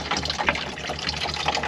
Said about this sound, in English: Right, so that's the pump on.